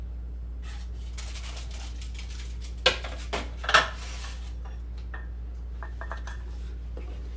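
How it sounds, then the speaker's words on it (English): A metal muffin tin is handled in a kitchen, giving a few sharp clanks and rattles in two quick bursts, then lighter taps, over a steady low hum. "And I'm going to get my muffin tin."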